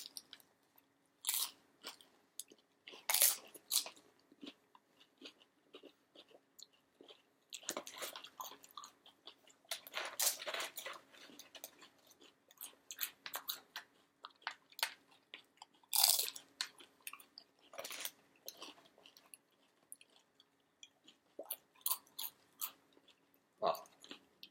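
Crunchy bites of tortilla-chip nachos topped with pork BBQ and jalapenos, repeated chewing and crunching close to the mic in irregular bursts with quiet gaps, no talking.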